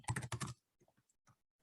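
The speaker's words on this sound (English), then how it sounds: "press enter in the password." A password is typed on a computer keyboard, a quick burst of several loud, close key clicks followed by a few fainter, scattered taps in a quiet room.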